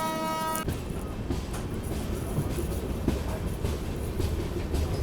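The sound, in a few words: Pinakini Express passenger train running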